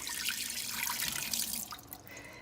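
Water pours steadily into an Instant Pot while potatoes are being cooked, giving a continuous close splashing rush that eases off slightly toward the end, with no talking.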